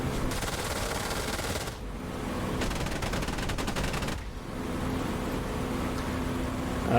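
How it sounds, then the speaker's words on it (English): Spitfire .303 machine guns fire in rapid, continuous bursts in the DCS World flight simulator, a dense mechanical rattle over a steady aircraft engine drone, with two separate bursts broken by short pauses. "The 303s aren't as strong as, say, the American 50 calibers, but they also make up for that in rate of fire. They fire pretty darn quick."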